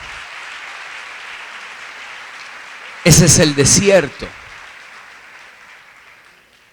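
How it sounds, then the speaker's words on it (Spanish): Applause rolls through a church congress crowd as a steady wash of clapping that fades out gradually, broken midway by someone briefly speaking loudly over it. "Eso merece un aplauso al Señor."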